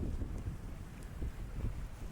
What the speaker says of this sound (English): Little gust of wind pushing us along right now.